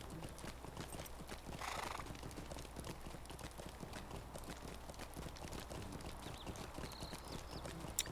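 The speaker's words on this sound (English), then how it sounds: "This nice little ride back to Strider." Horse hooves clip-clop at a steady riding pace across a scenic route in the online game Lord of the Rings Online, a continuous moderate rhythm with no talk over it.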